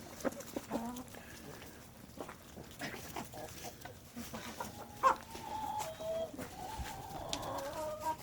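Chickens cluck and murmur softly nearby around a laying box on a farm, with scattered short calls and faint barnyard noises over a quiet background.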